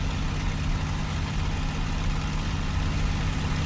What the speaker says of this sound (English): I turned up the sound of the engine just so that we can hear the in-game audio a bit